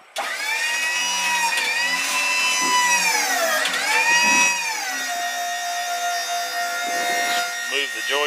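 Engine of a 2014 custom-built frac sand separator trailer running close by, a loud droning whine whose pitch dips and rises as the separator is raised.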